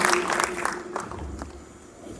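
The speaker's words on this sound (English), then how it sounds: "Please give her a big round of applause" Applause at a school spelling bee in Mawlai, a short burst of clapping from the audience that starts loud and thins out over a couple of seconds, with a few scattered claps trailing off at the end.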